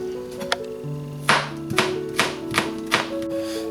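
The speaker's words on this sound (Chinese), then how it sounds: "蒜切末" A kitchen knife chops garlic into fine mince on a board, with about five crisp, evenly spaced chops after a single earlier tap. Steady tonal hum sits underneath and no one speaks.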